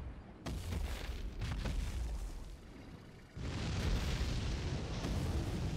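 Falling fire bursts in Elden Ring with a deep roaring explosion, a sustained rumbling blast that drops briefly then surges again loud and close, with no speech.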